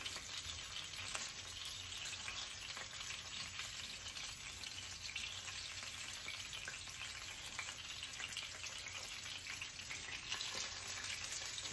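Ravioli frying in hot oil, a steady dense sizzle that holds at an even level throughout, close and continuous with no talking.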